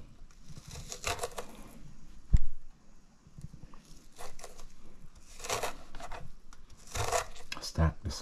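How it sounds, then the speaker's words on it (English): A kitchen knife cuts stacked slices of fresh ginger into matchsticks on a board, giving soft, quiet, repeated chopping taps close by, with one louder knock partway through. "Then I'll stack the slices, and then cut again."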